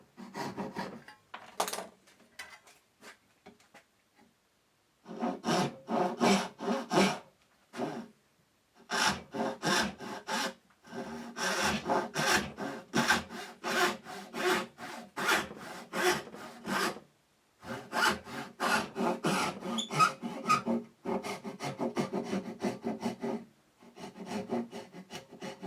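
Hand saw cutting wood for a box hinge, repeated bursts of rhythmic back-and-forth strokes with short pauses between runs, close and clear with no talking.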